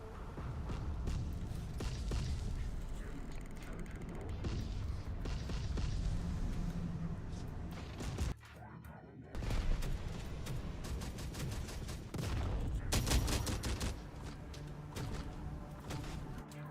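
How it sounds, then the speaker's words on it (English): Artillery fire in the Terminator Dark Fate Defiance video game, with heavy booming blasts and rumbling fire that run almost continuously. A brief gap comes midway before the barrage resumes. "The artillery's back online."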